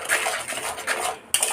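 A utensil scrapes and clinks against a pan as spice masala is stirred for a pointed gourd dish, repeated close metallic scraping with a brief sharp clank near the end, no voices.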